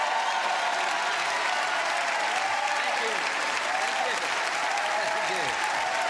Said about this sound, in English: Get back up out of your seats and applaud that as we welcome Senator Lindsey.